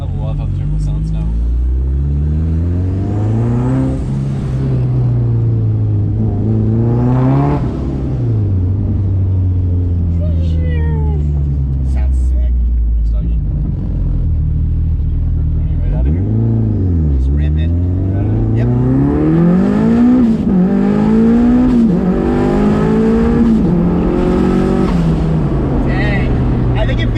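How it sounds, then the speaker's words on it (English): A turbocharged car engine revs up and down repeatedly, loud and close from inside the car, with rising and falling pitch sweeps through gear changes and a steady rumble beneath. "I love how the turbo sounds now."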